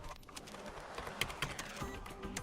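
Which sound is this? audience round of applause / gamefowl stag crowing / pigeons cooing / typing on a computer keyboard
typing on a computer keyboard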